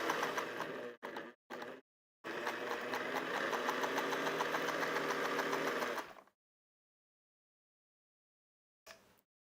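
A sewing machine stitches a quilted pillow cover, a few short stop-start bursts followed by a steady four-second run of rapid, even mechanical chatter close up, then silence and one last brief burst.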